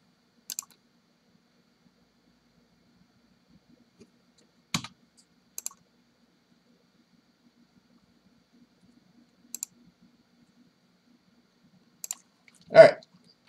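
Scattered single keystrokes tap on a computer keyboard during an iPhone 6 Plus repair, a handful of sharp, isolated clicks seconds apart in an otherwise quiet room, ending with one slightly longer, fuller click.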